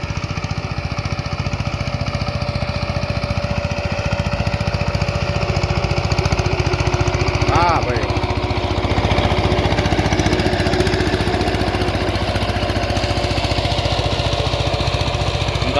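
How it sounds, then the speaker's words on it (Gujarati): A tractor engine running in a chilli field, a continuous loud chugging drone with a steady throb and no break. "આવે હો મારું ટ્રેક્ટર"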